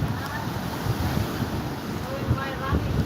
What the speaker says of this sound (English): If it's not the wind, it's the rain and the wind together.